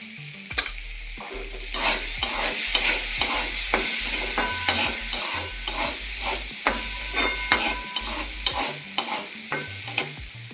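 Coriander powder and spices fry in a pan for a fenugreek seed and papad curry, a steady sizzle broken by repeated scraping stirs of a spoon against the metal, close and clear.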